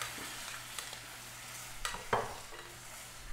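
Onions cook in a pan, with coconut milk about to go in for a veggie noodle and coconut basil sauce, giving a soft steady sizzle broken by a few scraping stirs of a utensil against the pan, close and moderately quiet.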